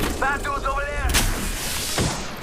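Gunfire in the Apex Legends video game: sharp broadband shots near the middle and end of the clip, mixed with in-game sound effects and a brief tonal chirp early on.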